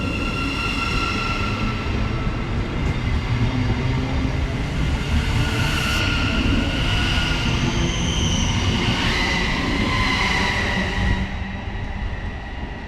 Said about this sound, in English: 717-003 now departs.